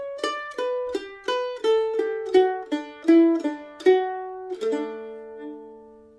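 Mandolin picks out the closing two bars of the A part of the bluegrass tune Make a Little Boat, a run of crisp, evenly spaced plucked notes ringing clearly and alone, ending on a sustained final note.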